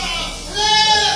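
A Gembrong goat, a long-haired goat breed from Bali, gives a short, close bleat that rises out of background noise.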